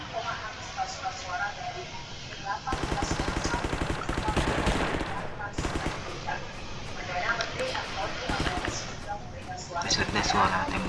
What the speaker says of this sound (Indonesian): Ada suara tembakannya. Wih, senjata apa nih?